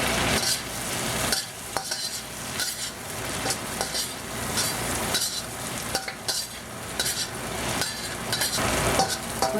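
Shrimp with onion and garlic fry in a pan, a loud steady sizzle lasting throughout with repeated stirring scrapes and occasional light clinks of utensil on metal.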